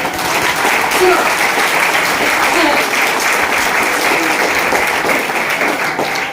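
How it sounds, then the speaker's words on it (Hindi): An audience at an indoor gathering claps their hands in steady, dense applause that continues for several seconds without a break. "अच्छा ताली बजाने के फायदे बताओ क्या आपको? जरा बजाते रहिए"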